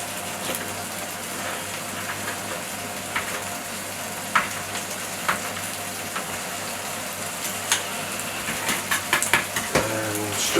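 Strips of bacon fry in a pan with a loud, constant sizzle and crackle, broken by occasional sharper pops and a few clinks of a utensil near the end.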